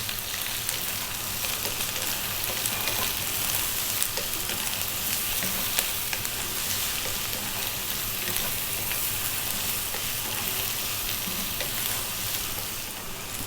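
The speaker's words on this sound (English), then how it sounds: "We're now going to add 1 cup of onion and a tablespoon of garlic chopped." A cup of chopped onion and a tablespoon of chopped garlic fry in a pan for potato rice, giving a loud, continuous, crackling sizzle close up with no talking.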